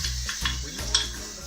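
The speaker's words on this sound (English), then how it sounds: "we're going to whisk that in very carefully because I didn't use a big enough saucepan" Whisk scraping and stirring cocoa powder into melted butter in a small saucepan, a few close, soft brushing strokes with no voices.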